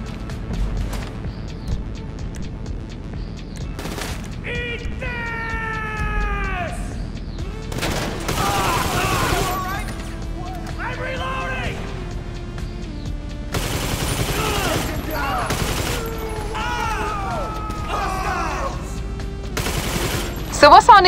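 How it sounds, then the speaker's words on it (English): Shootout gunfire in GTA 5 Online near a bunker: bursts of shots and booms come in clusters through the clip, mixed with music-like tonal sounds and intermittent voices. "As long as they still shooting, I know y'all ain't dead."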